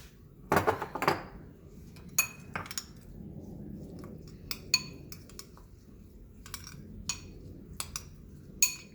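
A spoon mixes pepper and seasoning in a bowl, making a scattered series of sharp metallic clinks and taps against the dish, separated by short quiet gaps.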